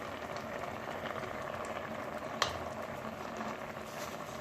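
Fish simmering in a pot of unripe plantain porridge, a steady bubbling patter with a single brief sharp pop near the middle, close and continuous with no talk.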